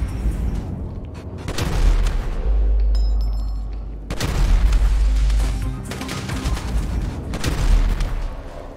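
GTA V video game shootout: heavy bursts of gunfire and deep booming blasts, loud and continuous with rapid repeated shots and rumbling impacts throughout.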